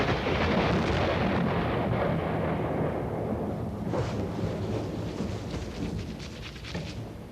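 A long, loud rolling rumble of thunder with lightning that slowly fades, with rain-like hiss and a few sharp crackles near the end.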